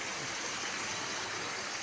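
Steady broadband rush of a waterfall at Blue Lagoon Reservoir in Belmont, Lancashire, heard close and constant with no talk over it.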